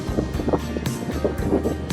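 Strong wind gusts buffet a sailboat at sea after the sails were reefed, a rushing, roaring blast with low rumble and surging bursts, close to the microphone and loud, with no speech.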